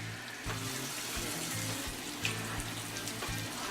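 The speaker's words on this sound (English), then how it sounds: "I'm going to add some water to this as well." Water poured into a hot pan of fajita vegetables gives a steady hiss and splash with a faint sizzle, close and continuous, with no talking.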